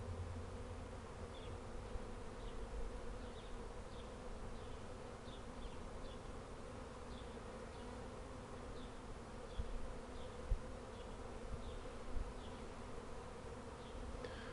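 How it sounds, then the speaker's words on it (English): A bee swarm buzzes continuously in a steady, droning hum, with individual insects zipping past now and then. "This side over here was completely covered with bees, and they're just slowly walking up the side and going in."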